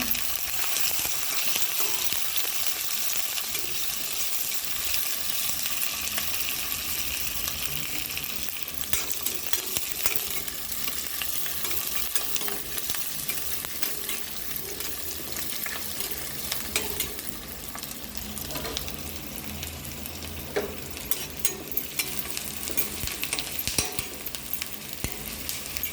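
Onion fries in hot oil with garlic, ginger, green chili and curry leaves, a steady close sizzle broken by frequent scraping stirs and light clinks of the spoon against the pan, no talk.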